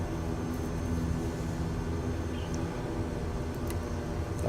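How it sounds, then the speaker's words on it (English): Steady, broadband engine drone from a plane somewhere in the background, a continuous even roar with no distinct changes and no talk. "Hear a plane in the background."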